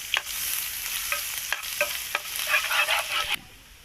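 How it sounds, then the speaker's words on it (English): Garlic fries in oil in a pan, with a continuous sizzle broken by several sharp scraping stirs, close and fairly loud, with no talking. "We start to add oil"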